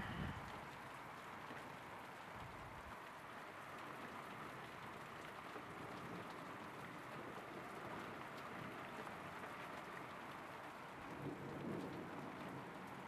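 Steady rain pours continuously during a severe thunderstorm in northern Victoria, Australia, with a low rumble of thunder rolling beneath it; no voices, just a dense, even wash of storm noise.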